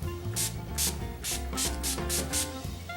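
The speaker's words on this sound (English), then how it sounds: "I am using my Urban Decay All Nighter Makeup Setting Spray." An Urban Decay All Nighter makeup setting spray fires about seven short, hissing mist bursts in a quick, fairly even rhythm, close by, over a low steady background hum.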